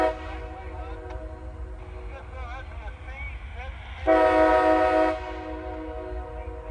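Heritage locomotives leading a freight train past, a steady rumbling drone with a loud horn blast lasting about a second near the end, fairly close, with someone speaking faintly over it.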